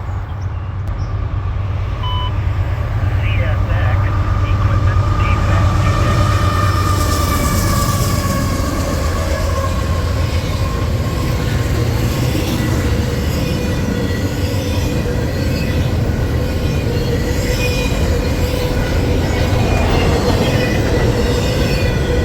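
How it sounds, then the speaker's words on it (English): CSX intermodal freight train rolling west behind a rebuilt CM44AC and an ES44AC locomotive, a loud, steady near rumble of engines and wagons with squealing wheel tones running throughout. "Powered by a recently rebuilt CM44AC, rebuilt from an AC4400 CW, and an ES44AC, the train continued its way west to Bedford Park"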